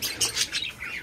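Caged parrots are caught and squawk, with rapid wing flapping and rustling in a series of loud, close bursts.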